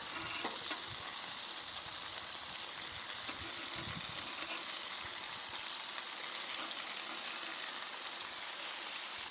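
Sausages and bacon fry on a flat iron griddle outdoors, filling the air with a steady, dense sizzle and crackle at moderate distance, with occasional faint clicks of handling.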